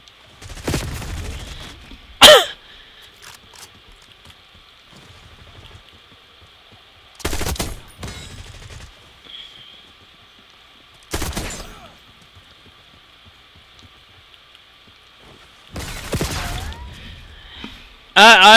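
Gunfire in Call of Duty: Black Ops 6, heard as several loud separate bursts spread through the clip with quieter game sounds and a steady hum in between.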